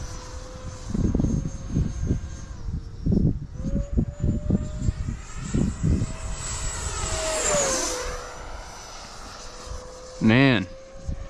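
An E-Flite Viper 90mm RC sport jet, driven by an electric ducted fan, whines as it sweeps past, the pitch rising and falling through a close pass, with people talking over it at times.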